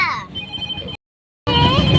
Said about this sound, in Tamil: ஃபோன் அடி ஃபோன் அடிக்குது